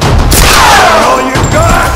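A booming gunshot in Tomb Raider: Definitive Edition as an enemy is shot in the head, loud and close, followed by a short rumbling tail, with faint voices mixed in.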